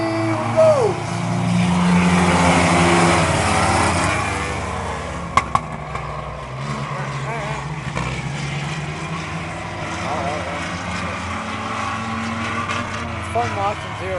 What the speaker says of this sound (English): We have 4 trucks in this 10-lap qualifier in the truck division.